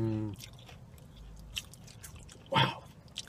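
Someone chews KFC French fries, soft biting and mouth sounds at close range, with a brief voiced murmur at the start and a sharper crunchy bite near the end.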